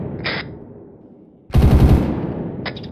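Machine guns open up in the ARMA 3 military game: a loud, dense burst of rapid automatic fire lasting about half a second, trailing into rumble, with fainter short bursts before and after.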